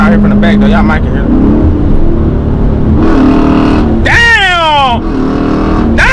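A loud truck engine and exhaust heard from the rear revs and accelerates in bursts, with a sharp rising whine near the end, while people talk and exclaim over it.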